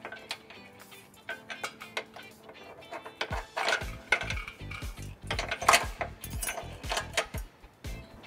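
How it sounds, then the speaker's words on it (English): Carriage bolt and plate fished on wire through the steel frame of a 2017 Ford Taurus during a trailer hitch install; quiet, irregular metallic clinks and rattles, close by, with no talking. "take the provided carriage bolt and plate and fish wire it through our frame"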